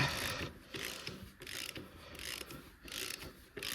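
A ratchet tightens the fork bolts on a Honda 600 Shadow chopper being fitted with a long fork, giving repeated bursts of clicking strokes with short pauses between them, close and moderately loud.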